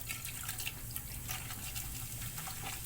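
Sprite soda being poured into a pressure cooker holding duck pieces, a faint steady liquid stream and fizz with light splashing that continues throughout, quiet and close.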